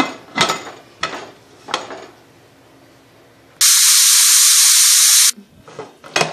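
A pressure cooker of vegetable palav with tomatoes vents a loud, steady rush of steam for nearly two seconds, preceded by a few sharp clanks of utensils in a home kitchen.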